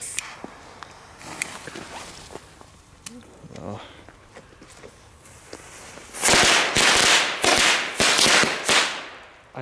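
A rapid string of sharp, loud New Year's Eve firecracker bangs crackles near the end, after quieter scattered pops and rustling earlier on.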